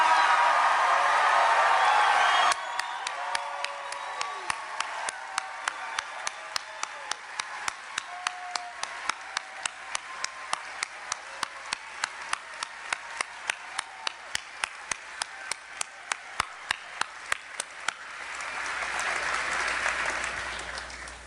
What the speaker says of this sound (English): I'd like to ask the Democratic members of the Wyoming State Legislature to stand and get a round of applause from you guys